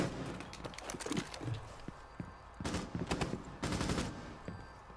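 Hip-fire gunfire in a video game: quick bursts of automatic shots rattle out in clusters, with two dense volleys later on, all fairly faint and close against quiet game ambience.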